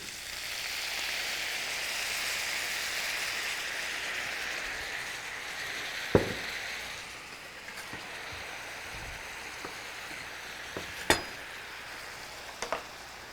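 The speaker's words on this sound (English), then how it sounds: "we're going to reduce the pan with a little wine" Garlic sizzling in a hot pan as wine is added to deglaze it for chicken osso buco, a steady close hiss with a few sharp utensil clinks and scrapes toward the end.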